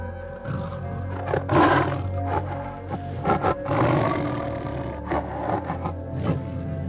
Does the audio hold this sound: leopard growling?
yes